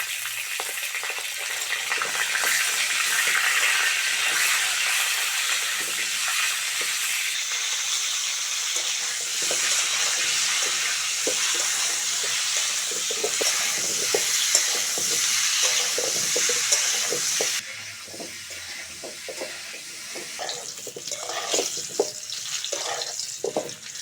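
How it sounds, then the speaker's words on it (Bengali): Potatoes frying in hot oil in a pan, a steady loud sizzle running throughout with scraping stirring strokes on top, the sizzle dropping somewhat in the final stretch; no one speaks. "আলুটা খুব সুন্দর করে ভেজে নিয়েছি, তুলে নেব।"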